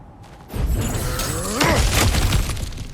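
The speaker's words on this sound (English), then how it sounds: "back to smashing through things for fun and profit" Objects smashed apart in God of War Ragnarök, a loud shattering crash of breaking wood and debris that builds and peaks midway, with clattering fragments continuing to the end.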